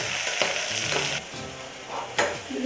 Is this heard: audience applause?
no